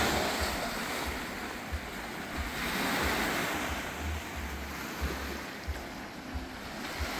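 Sea waves wash onto a beach on Nusa Lembongan in a steady, broad roar, swelling and easing, with wind buffeting the microphone.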